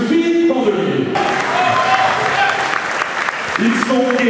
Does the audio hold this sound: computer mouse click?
no